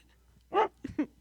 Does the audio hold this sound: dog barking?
yes